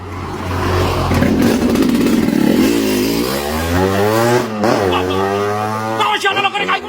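A motorcycle engine revs loudly and close, its pitch climbing and falling through several throttle blips that ride over a steady rumble, with people talking over it in a Sundanese comedy sketch.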